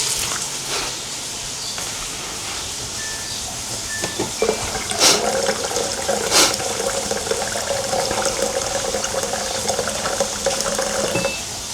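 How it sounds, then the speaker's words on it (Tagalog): Broth pours steadily into a pot of chicken sopas, giving a continuous close splashing, bubbling rush of liquid with a few clinks along the way. "Add na rin tayo ng ating pangsabaw."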